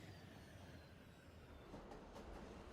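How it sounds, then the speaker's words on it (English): A train in the Roblox game Jailbreak rumbles along with a steady, loud low roar and faint rail clatter, continuous throughout with no speech. "Alright, let's get this train here."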